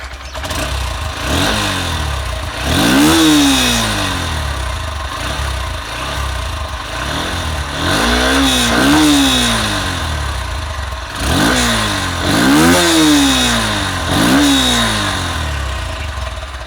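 A Honda X Blade motorcycle with a twin-outlet exhaust fires up close by and revs repeatedly, rising and falling in several sharp bursts over a steady idle.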